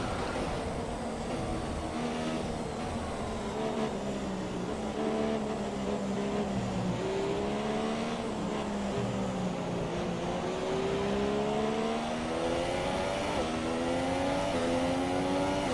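Formula One race car engines in the F1 2017 game at the Chinese circuit, a continuous loud high-pitched whine rising and falling through gear shifts and overlapping with other cars nearby.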